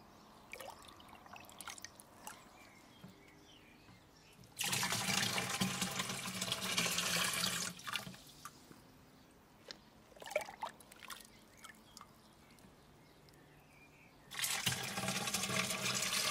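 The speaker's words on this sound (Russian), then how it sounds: "Наполняем лейку доверху" A watering can is filled to the top with water in a vegetable garden. Two bursts of loud, rushing, splashing flow are separated by quieter drips and trickles.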